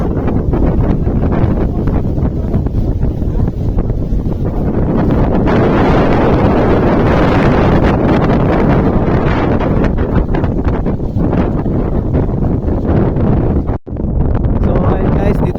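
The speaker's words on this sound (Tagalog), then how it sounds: "super lakas ng hangin" Strong wind on a shore buffets the microphone in a loud, continuous roar with gusty swells, briefly dropping out near the end.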